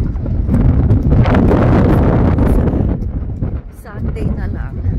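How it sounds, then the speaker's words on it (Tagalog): Strong wind buffets a microphone outdoors, a loud, steady low roar that eases slightly near the end, with faint voices underneath. "Grabe, lakas ng hangin."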